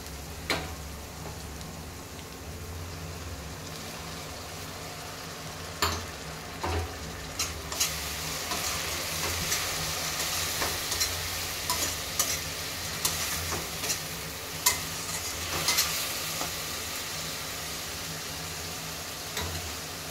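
Garlic and tomato paste frying in a pan, a faint continuous sizzle with scattered scraping clicks from stirring, no talking.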